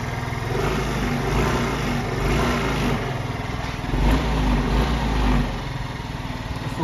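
A 2023 Aprilia SXR50 50cc scooter engine runs at idle and briefly revs up twice, the pitch rising and dropping back to a steady putter.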